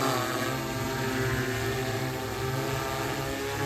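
An agricultural spraying drone flying over a farm field: a steady, droning propeller hum with a layered, buzzing whine holds constant and fairly loud throughout, without speech.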